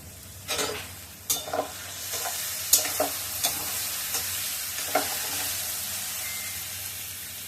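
Pumpkin, potato and bitter gourd bhaji with green chilies sizzles steadily in a pan, broken by a series of sharp, close scraping stirs of a spatula, with no talking.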